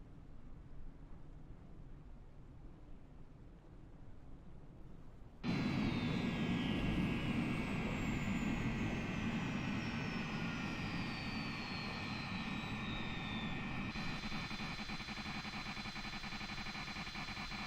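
MD-80 jet engines running in Microsoft Flight Simulator give a steady whooshing drone that jumps louder and fuller partway through, then holds constant with a high whine on top.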